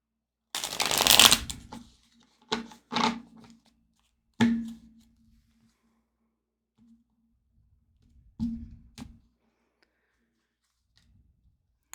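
Tarot cards shuffle for a reading in several short bursts of close riffling and flapping, separated by quiet pauses, with no voices.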